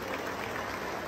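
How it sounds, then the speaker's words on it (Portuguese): A crowd claps steadily for birthday celebrants at a gathering, a brief, even wash of applause at moderate distance. "mais uma salva de palmas aqui para os aniversariantes"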